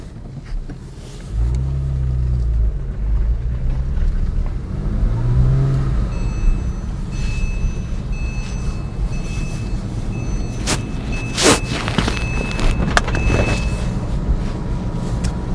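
A Porsche 911 997.1 Carrera S on the move, with a steady, close engine drone and low rumble that swells briefly as it accelerates, joined by a few faint electronic tones partway through and no talking.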